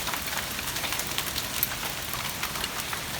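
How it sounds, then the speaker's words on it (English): Hail pelting down in a thunderstorm makes a dense, steady hiss of impacts with scattered sharper ticks, continuous and fairly loud throughout, with no voices. "Ooh, look at that hail."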